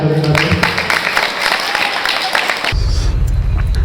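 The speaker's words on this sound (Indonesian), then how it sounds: "Tepuk tangan." Audience at a pesantren gathering breaking into applause, a dense wash of clapping for a few seconds that stops abruptly as a voice comes in.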